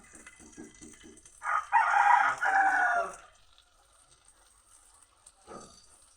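A rooster crows once, loud and close, a drawn-out cock-a-doodle-doo lasting about a second and a half, preceded by a few soft clucks and followed by a quiet outdoor hush.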